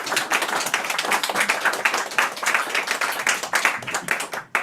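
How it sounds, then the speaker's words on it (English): Audience clapping and applause at a poetry reading as a poet comes up to read, a steady dense patter of many hands sustained throughout, then cutting off abruptly at the very end. "round of applause on the way up, round of applause on the way down"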